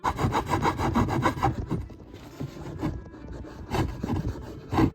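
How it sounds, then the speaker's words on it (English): A hand saw trims a small wooden piece for a custom model locomotive boiler, with rapid, rhythmic back-and-forth rasping strokes, close and fairly loud, pausing briefly midway before resuming. "I grabbed my saw and trimmed it down"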